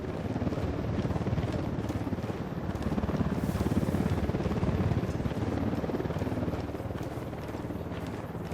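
Helicopter in the video game Ghost Recon Wildlands, a steady rumbling rotor drone that holds loud and continuous with a slight swell in the middle, no talk.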